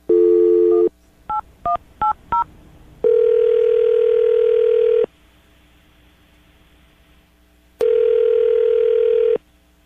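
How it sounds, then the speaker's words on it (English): Landline telephone: a steady dial tone, then five quick keypad DTMF beeps, followed by two long ringback tones separated by silence, all loud and clean with no voices. "I'm going to dial the phone number."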